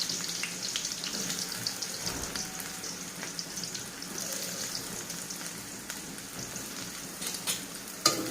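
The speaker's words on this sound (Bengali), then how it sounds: "এইভাবে তেল গরম হয়ে গেছে, আমি এবার পেঁয়াজ কুচিগুলো দিয়ে দেবো।" Chopped onions fry in hot oil with a soft, steady sizzle and light crackle. Faint clicks and a louder knock come near the end, and nobody speaks.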